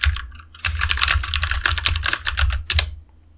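Fast typing on a computer keyboard, a close, crisp run of irregular key clicks with a few heavier strokes, stopping abruptly near the end.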